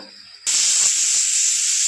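Pressure cooker whistle bursting into a loud, sustained steam hiss after a quiet start, while vegetable biryani cooks inside; the hiss holds steady and close.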